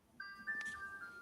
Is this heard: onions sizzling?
no